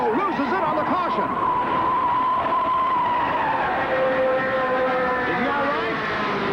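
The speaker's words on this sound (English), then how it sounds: "The yellow flag is out, and Cale Yarbrough loses it on the caution" A race car skids out under caution at the 1967 Indianapolis 500, with tyres squealing in long wavering whines over a steady engine roar. A voice talks throughout.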